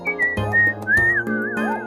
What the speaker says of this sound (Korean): 휘파람 소리도 내줘요.